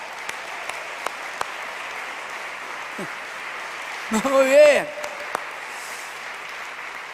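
A church congregation applauds during an evening prayer service, a steady wash of clapping throughout with a short spoken phrase near the end.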